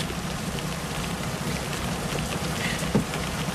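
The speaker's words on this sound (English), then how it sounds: "Getting out of the rain!" Rain falls steadily in an even, constant patter, close and moderately loud, with one brief knock near the end and no voices.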